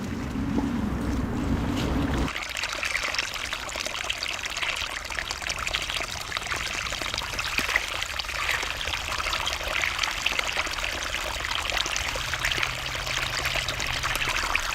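Steady rushing water fills the scene, a continuous broadband flow like a stream or outdoor tap, with a brief lower rumble at the start.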